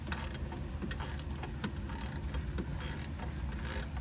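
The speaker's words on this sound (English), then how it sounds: "You see the bushing will start compressing here as we keep cranking down on the nut." A wrench cranks a nut down on a GMC Savana 3500 control arm, compressing the bushing: repeated metallic ratcheting clicks in a steady rhythm, close by, with occasional sharper clanks and no talking.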